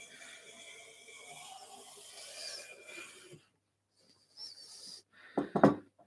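A razor-sharp hand plane draws a fine wood shaving in a steady rasping stroke, close up, followed after a pause by a couple of brief scraping strokes ending in a louder pass.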